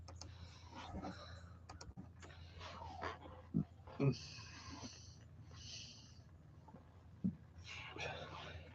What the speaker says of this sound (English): My dad's dogs are having altercation with the neighbor dogs over there.